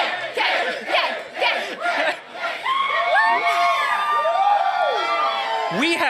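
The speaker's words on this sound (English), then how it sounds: "What is it like to see this crowd yelling your name?" A large convention crowd yells, whoops and cheers for Kang the Conqueror, a loud, sustained roar of many voices with rising shouts and whistles close by.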